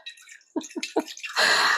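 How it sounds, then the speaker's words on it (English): Country Crock dairy-free whipping cream pours into a dish, a few soft glugs followed by a steady, close splashing rush of liquid, with no talk. "So we'll just pour this into the dish."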